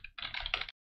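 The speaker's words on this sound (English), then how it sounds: "if you are pressing your keyboards like I'm doing at the moment" Quick burst of typing on a computer keyboard, a close rapid cluster of clacking keystrokes lasting under a second, then silence.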